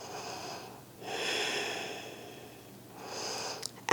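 Slow breaths taken while holding a side-body yoga stretch, two long audible inhales or exhales close to the mic, separated by quiet, followed by a brief rustle at the end.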